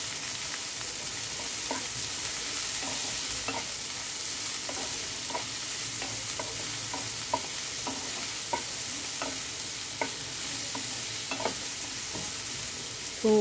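Onion fries with garlic in oil over low gas for methi bhaji, a steady gentle sizzle broken by repeated light clicks of a spoon stirring the pan, with no talking.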